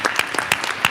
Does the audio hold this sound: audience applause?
yes